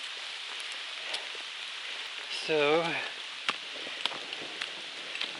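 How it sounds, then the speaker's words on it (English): Light rain falls steadily on a hiking trail along the Appalachian Trail, a soft even hiss with scattered drop taps, while a voice briefly speaks partway through. "It's not raining hard"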